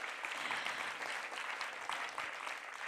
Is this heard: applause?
yes